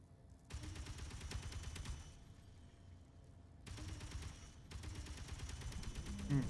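In the video game Space Engineers, gunfire aimed at the player crackles in two long rapid bursts split by a short lull, steady and fairly faint, with no voices.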